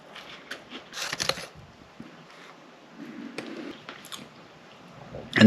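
Crunchy spicy chicken goujons and chips are chewed close to the mic, with soft crisp bites, moist squishy mastication and small clicks spread through a quiet stretch, ending with a louder thump.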